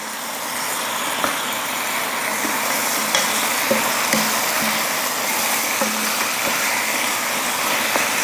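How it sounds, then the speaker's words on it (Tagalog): Fried pork with onions and garlic sautéing in a pan, a steady close sizzle throughout with scattered light clicks of stirring and scraping, no talking. "Yan, igisa lang natin ito sandali with the onions and garlic."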